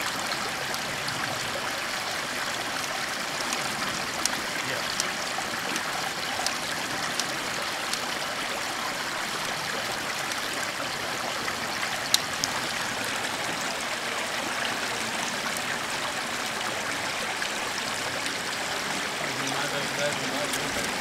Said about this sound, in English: as you can see, it'll start filling the water bottle up